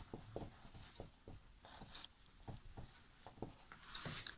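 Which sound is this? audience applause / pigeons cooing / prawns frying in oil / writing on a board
writing on a board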